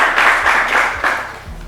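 A school competition finale audience gives a short burst of applause, a dense wash of claps at steady volume for a couple of seconds.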